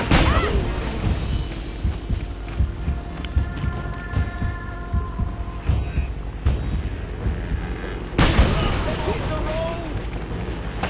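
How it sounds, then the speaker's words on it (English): Explosions in Uncharted: Drake's Fortune during a road escape: thudding booms and crashes among constant game action, with a sharp loud blast late in the sequence and voices talking over parts of it. "They both exploded at the same time, despite being on opposite sides of the road."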